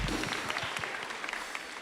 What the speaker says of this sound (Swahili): tupigie watoto wetu makofi mazuri